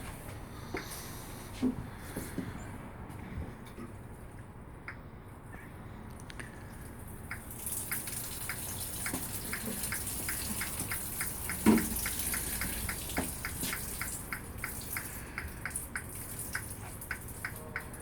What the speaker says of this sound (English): Well, let's water this plant and see what happens.